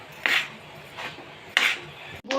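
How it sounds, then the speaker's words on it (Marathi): A spoon scrapes and clanks against a kadhai while jaggery puran is stirred for puran poli, three or four short metallic strokes spaced evenly at close range. "आता हे छान हलवून घ्यायचं आहे"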